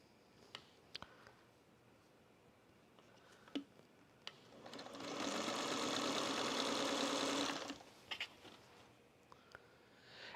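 A sewing machine stitches fabric squares and rectangles in one steady, whirring run of about three seconds midway, with quiet clicks and handling sounds before and after.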